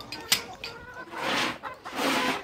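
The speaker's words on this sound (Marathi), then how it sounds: "या आहेत माझ्या कोंबड्या आणि हा जो आहे तो शेड आहे त्यांचा असा" Kaveri chickens cluck in their shed under a plastic cloth covering, with a few short sharp calls and then two longer, louder stretches of overlapping clucking close by.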